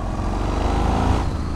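A 2005 Yamaha MT-01 motorcycle accelerating, its engine giving a close, loud, throbbing low rumble that rises slightly through the short stretch, with no talking.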